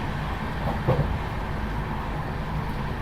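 Steady rumble and rattle from inside the Darjeeling Mail train as it runs, a continuous low drone with a brief knock, heard alone.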